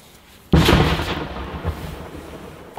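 A single firework blast at night, a sudden loud boom that rolls and fades into a long rumbling tail over about two seconds, heard alone outdoors.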